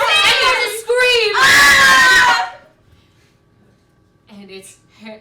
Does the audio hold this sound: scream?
yes